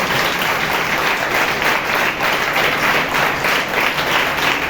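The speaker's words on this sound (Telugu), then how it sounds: "గట్టిగా చప్పట్లు కొడదాం." Applause from a crowd at a closing prayer gathering that ended a 70-day fast, dense steady clapping that holds at an even level throughout.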